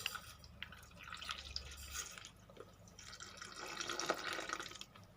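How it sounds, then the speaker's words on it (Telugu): Milk pours into a mixer jar holding sugar and cut mango pieces for a mango milkshake, a soft continuous liquid trickle and splash with a few drips, fairly quiet and close. "పాలు పోసుకుందాం."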